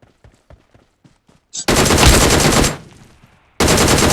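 In the mobile shooter BGMI, a few faint clicks lead into two loud bursts of rapid automatic gunfire, each lasting about a second, separated by a short lull.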